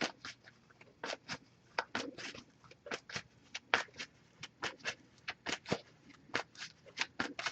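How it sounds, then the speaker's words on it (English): Repeated crisp riffling and snapping of cards being shuffled, in quick bursts with short pauses, close up and without talk. "So just going to give this some shuffles as well."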